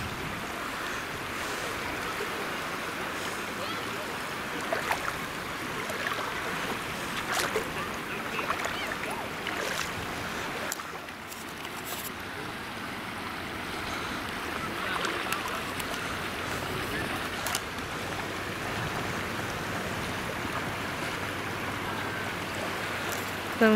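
Continuous wash of ocean surf rolling onto the shore at low tide in Quebec, Canada, a steady broad roar with faint occasional voices in the background.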